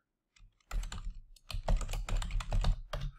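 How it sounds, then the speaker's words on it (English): Typing on a computer keyboard, close and clear: quiet at first, then bursts of rapid key presses with short pauses between them. "let me just type in credit repair"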